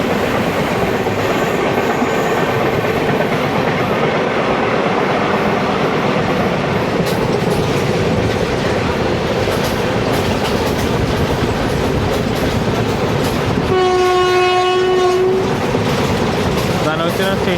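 A train runs past Dhanuvachapuram station on the Thiruvananthapuram–Nagercoil line with a loud, continuous rumble and clatter, and a drawn-out horn blast sounds near the end.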